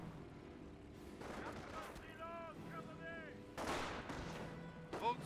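MP40 squad gunfire in Company of Heroes 1, close-range fight against a US rifle squad: bursts of shots and blasts amid battlefield noise, with a tonal whine and a sharp louder crack near the end.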